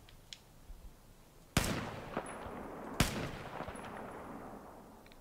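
Two sharp gunshots from a first-person shooter video game, set about a second and a half apart with a low ambient bed between them, loud and close with short decaying tails and no talk.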